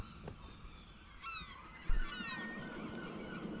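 Honking, goose-like bird calls from the video game RiME, two bursts of rising calls over a steady ambient background, fairly clear and close, with no talking.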